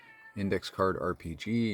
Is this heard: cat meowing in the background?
yes